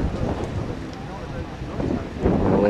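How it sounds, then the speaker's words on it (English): Gusty wind roars across the microphone at a paragliding site in a steady low rumble, swelling louder near the end. "It's actually a little bit too windy now."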